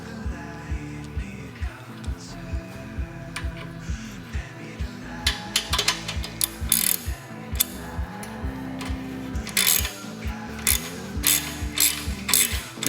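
A ratchet clicks rapidly in short bursts while tightening a lock nut on a Yamaha XS650 shock mount, with a steady ticking rhythm and some metallic knocks, close up with no talk.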